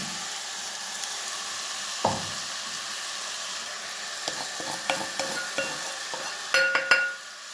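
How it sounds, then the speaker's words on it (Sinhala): Chili powder stirred into a sizzling mixture in a pan, with a sharp scrape early on, then a run of quick spoon scrapes and clinks over a low fry that grows busier toward the end. "ඊට පස්සේ අපි ඒකත් මෙහෙම කවලම් කරගමු."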